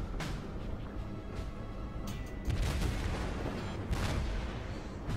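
Heavy naval guns boom in World of Warships aboard the battleship Kawachi, a few deep, rumbling blasts over continuous low sea and engine noise, fairly distant and muffled rather than sharp.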